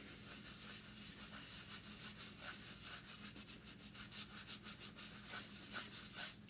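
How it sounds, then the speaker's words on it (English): Chalk paste rubbed and smeared off a surface with a cloth, steady continuous scrubbing strokes, close and fairly quiet, with no talking. "Now I'm going to get to a clean part and smear it off."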